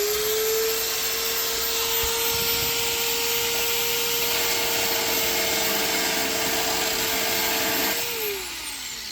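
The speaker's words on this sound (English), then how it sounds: "so I'm just gonna sand it a little bit more" Steady, loud whine of a power sander grinding spot welds on a Nissan 350z body panel, running continuously up close before winding down near the end.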